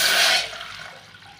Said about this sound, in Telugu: ఇంకో ప్యాన్ పై పెట్టుకొని వాటర్ పోసుకున్నాం